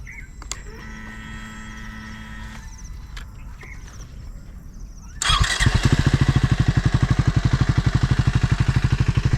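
A Triumph Scrambler 400X's 400cc single-cylinder engine cranks and fires up about halfway through after quiet handling noises, then settles into a loud, close, evenly pulsing idle.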